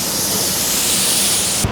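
Compressed air blasting steadily across a freshly painted panel on a Hilux body repair, a loud continuous close hiss that cuts off abruptly near the end.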